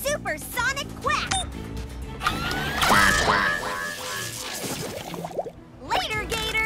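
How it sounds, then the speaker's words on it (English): A cartoon duck lets out a supersonic quack, a blaring, squawking blast that rises over busy animated music and sound effects, with cartoon voices heard briefly around it. "Supersonic quack!"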